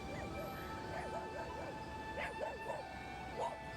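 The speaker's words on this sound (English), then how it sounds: "we have a couple of dogs coming over to say hello" Friendly dogs on a beach in Costa Rica give several short yips and barks, some whiny, at moderate distance over steady surf-like background noise, with a faint voice nearby.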